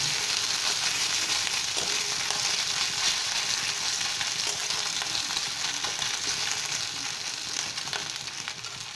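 Ginger paste frying with onions softened to translucent in a pan, a steady, dense, close sizzle that holds evenly throughout, with no voices.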